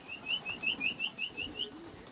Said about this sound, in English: Kind of whistling for them and letting them come out on their own.